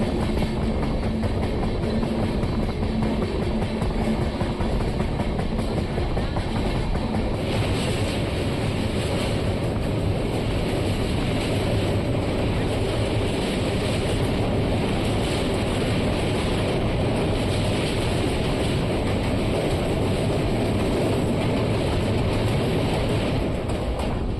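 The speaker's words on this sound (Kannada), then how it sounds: "ನಮ್ಮ ಟ್ರೈನು ಶ್ರೀರಂಗಪಟ್ಟಣ ರೈಲ್ವೆ ಸ್ಟೇಷನ್ನ ಸ್ಕಿಪ್ ಮಾಡ್ತಿದೆ" Mysore to Chennai SF Express running through Srirangapatna station without stopping, a loud, sustained roar of wheels and rushing air that shifts in texture midway and carries on steadily with no voices.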